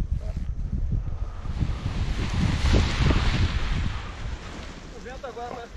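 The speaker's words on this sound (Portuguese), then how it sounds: "O vento agora parece estar meio lateral." Wind gusts buffet the microphone at a paragliding launch site, a loud rumbling roar that swells and fades, with a brief voice near the end.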